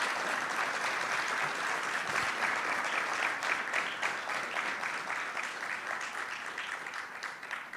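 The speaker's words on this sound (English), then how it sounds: "If you want to give a round of applause" At a fund launch event, an audience breaks into sustained applause, a thick wash of clapping hands that holds steady and eases off slightly toward the end.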